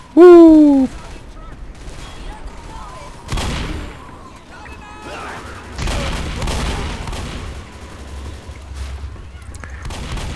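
Gunfire in the video game Left 4 Dead: a few sharp bursts and scattered shots amid busy in-game noise, following a loud tonal blare at the start.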